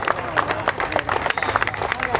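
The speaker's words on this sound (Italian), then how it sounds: "Applauso, applauso." A crowd applauds the winning driver and co-driver at the 2010 Rally Città di Lucca prize ceremony, with dense, loud, close clapping and chatter beneath a voice talking over it.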